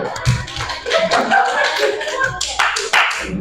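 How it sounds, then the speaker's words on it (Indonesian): Students in a classroom clap for their classmates, an uneven, close burst of hand claps mixed with taps and shuffling that rises and falls in short waves. "Beri tepuk tangan dulu untuk teman kalian."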